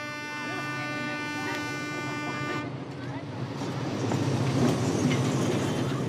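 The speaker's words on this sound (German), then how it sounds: "setzt der Zug des Lebens, auch Dschungelexpress genannt, seine Reise fort" Madagascar's jungle express passenger train, lengthened by an extra wagon, rolls onward with a steady loud rumble and rattle; tonal ringing at the start gives way to denser, louder running noise.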